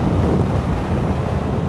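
Loud, steady wind buffeting the microphone while riding an Aprilia Tuono 660 motorcycle, a constant broadband roar with no other sounds.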